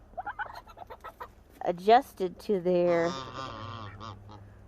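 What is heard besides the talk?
turkeys in their new house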